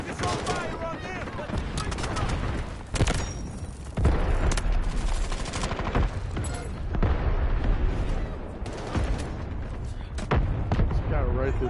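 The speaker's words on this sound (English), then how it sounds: "Artillery barrage incoming." Heavy artillery barrage in the Delta Force shooter game, with dense, rumbling blasts and crackling gunfire overlapping in a continuous loud din while a voice talks over the chaos.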